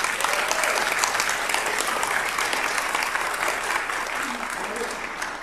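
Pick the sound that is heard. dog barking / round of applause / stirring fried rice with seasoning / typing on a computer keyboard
round of applause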